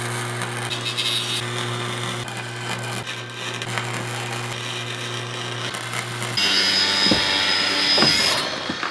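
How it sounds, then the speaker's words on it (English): A battery-powered welder runs on steel spokes for a floor inside a suspended sphere cabin, a steady crackling buzz with a constant hum that shifts in tone partway through, close and continuous without speech. "we're going to weld it in place for my floor"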